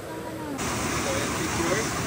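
A waterfall at San Antonio, Zambales roars as a broad, continuous rushing wash, close and loud, growing fuller after the first half second with voices faintly mixed in.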